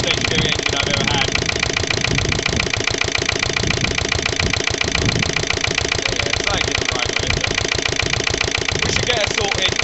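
A Lister LD1 diesel stationary engine runs steadily with a loud, dense mechanical chatter and a rapid, even knocking beat that holds for the whole stretch, close by and without a break.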